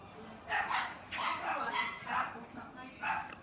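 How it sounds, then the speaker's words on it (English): Several dogs bark in a backyard at night, a series of loud, fairly close barks and yips repeating in bursts with short gaps, heard alone with no talking. "my dogs are in the backyard, so if you can hear them barking"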